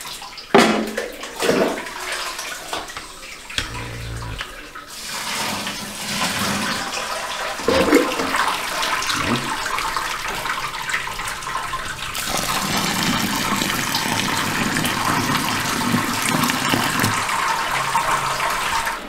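Water runs steadily from a Lidl preserving cooker for sparging homebrewed beer, a continuous pouring and gushing rush that stays loud and close after a few clunks at the start.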